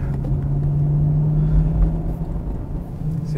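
Steady low engine rumble and road noise heard from inside a Ferrari on a test drive, a constant droning hum at cruising pace with no speech over it.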